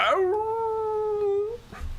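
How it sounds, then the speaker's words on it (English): Responding howls during a tabletop fantasy role-play session: a single drawn-out howl rises, holds a steady tone for over a second, then breaks off, standing alone with no talk over it. "that's when you hear the first of the howls"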